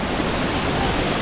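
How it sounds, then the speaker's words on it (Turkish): Waterfall at San Jerónimo de Surco near Lima, falling from a height: a steady, loud, dense rush of water that stays constant throughout, with no voices. "Şelale de bu."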